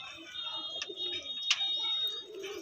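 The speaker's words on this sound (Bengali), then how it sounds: "এই হচ্ছে নর পায়রাটা" Large male band pigeon coos softly and close by in a low, rolling murmur across a few seconds, with a faint chirp and light background noise and no talking.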